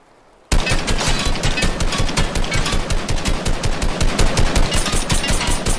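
Rapid automatic gunfire from a wall in a video game, a loud continuous burst of evenly spaced shots that starts abruptly and keeps hammering without pause.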